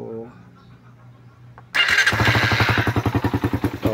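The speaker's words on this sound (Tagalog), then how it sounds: "Pakinggan natin yung makina dahil maingay yung makina nito" A Suzuki Raider 150 motorcycle engine cranks and catches, then settles into a loud, steady idle with a rhythmic, slightly clattery putter up close; the engine is unusually noisy.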